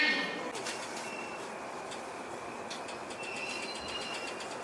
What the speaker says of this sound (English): The train bound for Shibuya and Shinjuku will soon arrive on track number 3